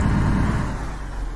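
A truck engine in Alaskan Road Truckers idles in a steady, low, rumbling drone with no talk over it, loud and unchanging through the short stretch.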